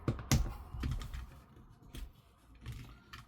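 Light plastic clicks from the missile lifts of a Transformers Studio Series 86 Ultra Mangus toy, several sharp ticks scattered irregularly over faint handling noise.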